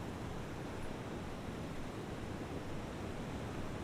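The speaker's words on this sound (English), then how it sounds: "the sweet sound of the stream gurgling and bubbling gently" A gentle stream flowing in a calm outdoor setting gives a soft, steady, even rush of water that stays faint and unbroken throughout, with no voices.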